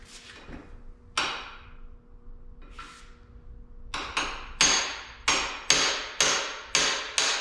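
Sharp metallic hammer blows strike freeze plugs on a Ford 302 small-block V8 engine block, a few scattered hits at first, then a steady run of evenly spaced, loud, ringing knocks, with no talking.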